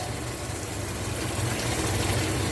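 Water pours steadily into a pot of Lahori korma, a continuous gushing splash that swells slightly toward the end, with no voices.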